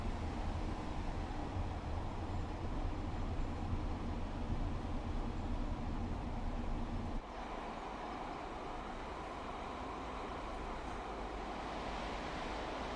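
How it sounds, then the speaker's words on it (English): An oncoming train rushing past in Train Sim World 4 on the Glossop Line, heard from inside a Pacer cab as a steady loud roar that abruptly drops to a quieter rumble once it has gone by. "there's a train."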